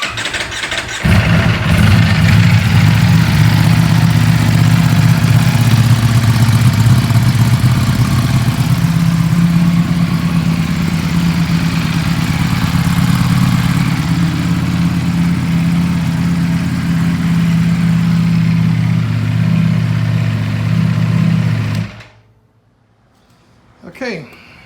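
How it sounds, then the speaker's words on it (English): A 2019 Ducati V4 S Corse on its stock exhaust idles with a low, steady grumble after starting, close and loud for about twenty seconds before shutting off into near silence. "this bike sounds pretty good stock with a stock exhaust, just that low Ducati grumble"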